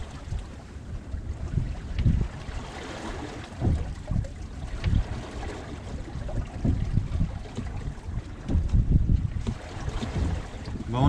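Wind rushes over a sailboat running downwind against a light current, a continuous breathy roar with gusty swells and low buffeting, broken by faint knocks and creaks from the boat.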